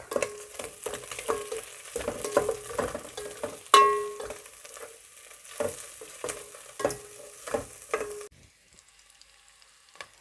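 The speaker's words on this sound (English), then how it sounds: "my onions are almost ready. So I'm going to add in the tangawizi, the ginger, sorry, and the garlic" Onions fry with ginger and garlic for beef pilau, with a steady sizzle and repeated clattering stirs of a utensil in the pan. A sharp clink sounds partway through, and the cooking noise cuts off near the end to a quiet room.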